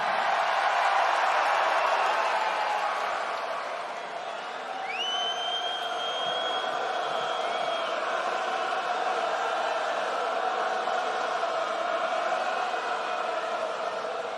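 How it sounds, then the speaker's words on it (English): A home crowd at a WWE RAW arena event sings wrestler Seth Rollins' entrance song, forming a loud, sustained wash of massed voices with a few thin whistle-like tones rising midway. "You're in front of basically your home crowd right now, all singing your song."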